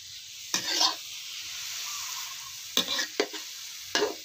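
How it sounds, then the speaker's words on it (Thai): Whole mushrooms stir-fried in a pan give a steady, bright sizzle, broken by four short scraping bursts of stirring, close and fairly loud. "แล้วก็จะผัดนะคะ ผัดทั้งต้นเลยนะ"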